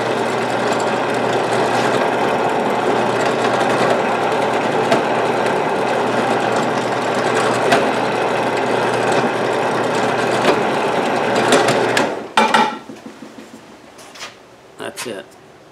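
A Harbor Freight drill press bores steadily through wood with a continuous mechanical drone for about twelve seconds, then winds down, leaving a few scattered clicks and handling noises.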